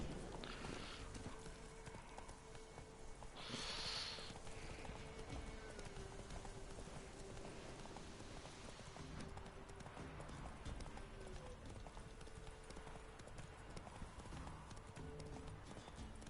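Roach the horse in The Witcher 3 moving with continuous clip-clopping hooves at a steady pace, a brief whinny-like burst early on, and a low game ambience under it throughout.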